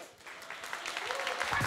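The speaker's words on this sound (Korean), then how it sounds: "다시 한번 부스터범스의 선수들에게 큰 박수 부탁드립니다." Brief audience applause for a Kart Rider Battle Royale esports team, a dense burst of clapping and cheering from a crowd that swells slightly over under two seconds, with a voice speaking over it.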